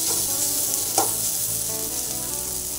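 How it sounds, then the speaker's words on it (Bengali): A fish head fries crisp in a pan, giving a loud, dense, continuous sizzle up close, with one brief sharper crackle partway through. "এই দেখো একদম মশমশা করে মাছের মাথা ভাজা।"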